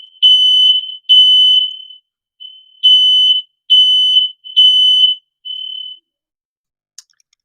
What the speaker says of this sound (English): I think the fire alarm in my house is going off.